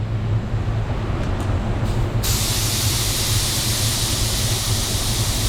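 Spray gun spraying clearcoat paint at low pressure, a loud close steady hiss that brightens sharply after the trigger is fully pulled partway through, with no talking.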